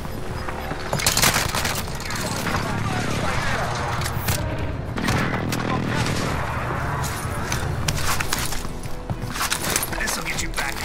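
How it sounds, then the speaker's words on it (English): Enemy precision airstrike in a battle royale video game, dense bursts of rapid explosions and gunfire-like cracks rolling on for several seconds under a low rumble, loud and close. "Enemy precision airstrike."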